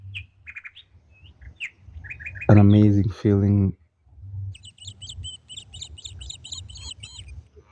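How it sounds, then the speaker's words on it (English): Birds chirp and twitter in short, bright phrases, with a rapid trill later on, while a person speaks briefly in the middle, outdoors in an African village. "Listening to the birds sing and just fresh air."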